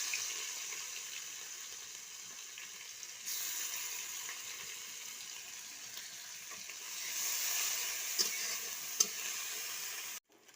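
Onions fry in oil in a wok with a faint, steady sizzle, a few light stirring clicks and scrapes, then the sound cuts off abruptly.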